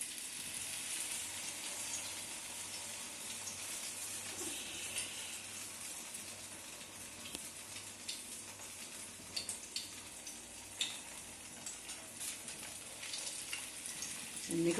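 Coated dough pieces, stuffed flatbread-style snacks made from wheat flour, frying in hot oil with a steady soft sizzle and bubbling throughout, fairly faint, with a few small clicks and stirs; no talking.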